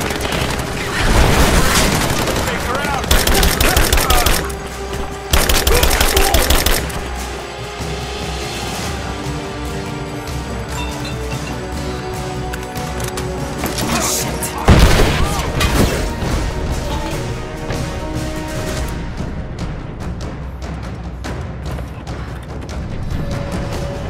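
Rapid gunfire erupts in Rise of the Tomb Raider: loud bursts of automatic fire and booming shots, followed by a heavy impact and a sustained rumbling game soundscape.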